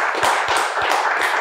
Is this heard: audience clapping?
yes